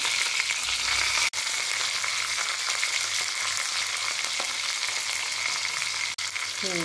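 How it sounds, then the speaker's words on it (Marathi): Mustard seeds, cumin, garlic, green chili and hing spluttering in hot oil as a tempering for khichdi, a loud, dense, unbroken sizzle heard up close, interrupted by two very brief dropouts. "तापून घेतलेलं आहे। त्यामध्ये भरपूर अशी मोहरी घालायची आहे।"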